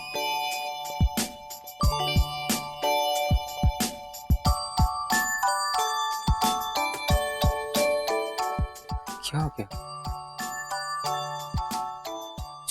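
A mobile phone ringtone plays a bright, repeating electronic melody, ringing on with the call going unanswered, with a short voice breaking in briefly.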